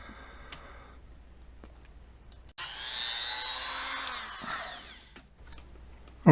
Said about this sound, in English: So let me drill it.